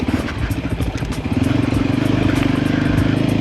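An off-road motorcycle engine runs close by with an uneven, stuttering putter that chugs and misfires rather than revving smoothly; it struggles above 3,000–4,000 rpm and sometimes stalls.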